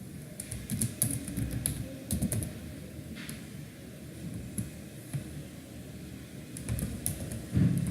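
Rapid keystrokes on a computer keyboard as a manager's details are entered, a steady run of close, light clicks over a faint background hum.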